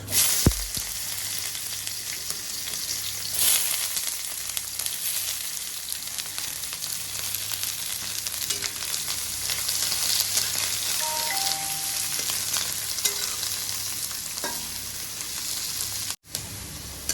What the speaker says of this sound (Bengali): পেঁয়াজটা 2 মিনিট একটু ফ্রাই করে নিয়েছি